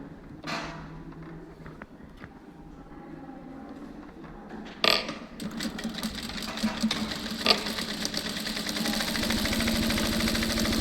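A sewing machine runs a fine seam, starting with a few clicks and thumps and then settling into a fast, steady mechanical whir that grows louder toward the end, with no voices.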